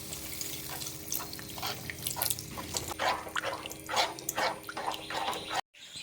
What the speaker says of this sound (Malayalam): നമുക്ക് ഇതിൻ്റെ അകത്ത് വെള്ളം ഒഴിച്ച് കൊടുക്കാം